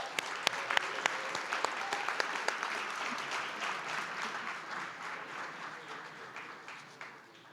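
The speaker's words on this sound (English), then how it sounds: "Come on, guys, clap it up" An audience at a democracy summit claps for students from a career tech high school, with some sharp individual claps up front at first. The clapping is fairly close and slowly thins out toward the end.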